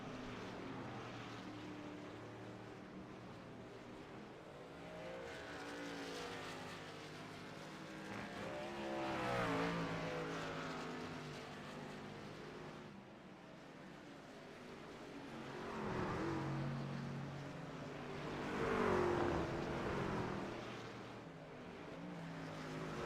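Race cars lap Watkins Glen, their engines swelling and fading in repeated distant passes as they circle the track, loud at each pass and quieter in between.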